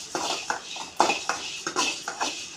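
A cooking pot is knocked and shifted in short metallic clinks and scrapes, about eight uneven taps close by with quiet pauses between them.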